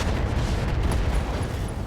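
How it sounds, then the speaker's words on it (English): LRM ammunition explosion in the video game RogueTech, a deep booming burst with rumbling low end that stays heavy and dense for the whole two seconds, no talking. "LRM ammo explosion there."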